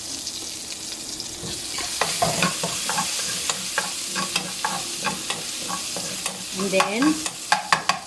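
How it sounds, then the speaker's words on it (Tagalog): Fresh garlic frying in a pan with oil, a continuous sizzle spattered with crackles and repeated spatula scrapes that grow busier toward the end, with a brief voice at one point. "So, on the same pan, i-fry na natin yung garlic"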